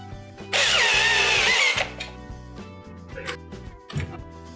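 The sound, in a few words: screws being tightened on refrigerator solenoid kit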